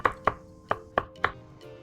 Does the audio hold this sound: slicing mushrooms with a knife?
yes